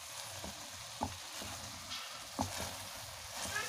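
Pineapple jam filling for nastar cooking down in a Teflon pan, a soft steady sizzle with faint scraping stirs every second or so, quiet and close.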